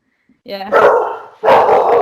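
A pet dog on guard duty gives two loud, close barks, the first opening with a brief whine, with a person's short word in between.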